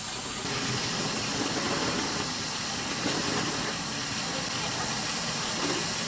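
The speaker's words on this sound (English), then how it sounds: "we come across a group of steam engines queuing at an empty water tank" Several steam engines queue at an empty water tank at a vintage rally in Rempstone, giving off a loud, continuous broadband hiss of steam with a low mechanical rumble beneath it.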